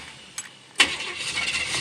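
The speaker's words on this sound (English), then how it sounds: "starts the car up and everything." A 1977–90 Chevy Caprice turns over and catches after a brief click, then settles into a steady, fairly loud running hum that lasts to the end, with no talking.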